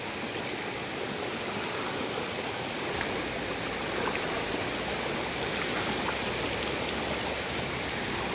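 A river rushes steadily throughout a river crossing, a broad continuous wash of flowing water heard close and loud, with no talk over it.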